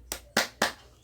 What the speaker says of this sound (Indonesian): kita bersama-sama akan tepuk semangat dulu agar belajar kita